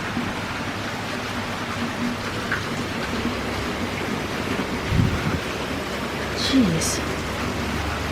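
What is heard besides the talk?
heavy rain during Tropical Depression Imelda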